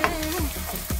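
Half a red onion sizzles in a hot pan, a steady close frying crackle with a few scraping stirs of a utensil breaking through.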